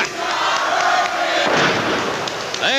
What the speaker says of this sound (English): There's a chant I haven't heard before.